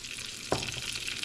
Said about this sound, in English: I just want you to sear the meat so get some good caramelization on there